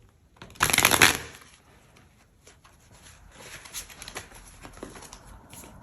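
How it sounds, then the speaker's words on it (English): Angel Tarot cards are shuffled and drawn, with one loud burst of riffling early on followed by quieter scattered card handling and soft shuffling, close by and with no talking. "We're gonna start by getting 2 cards from the Angel Tarot."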